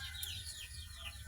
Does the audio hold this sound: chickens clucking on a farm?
yes